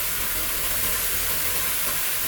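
Chopped broccoli added to a pan with grated carrot and sautéing, a dense, even hiss of sizzling that stays loud and steady throughout, with no voices.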